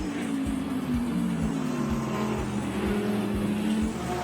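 Lamborghini GT race cars, led by the number 63 car, at the Spa 24 Hours, a steady loud engine drone with rising gear-by-gear revs and repeated shifts, continuous and without talk.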